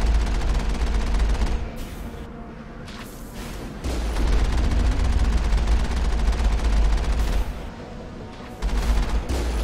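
Repeated cannon blasts from a pirate ship battle in a naval video game, heavy booming volleys that land in dense bursts with brief lulls between them.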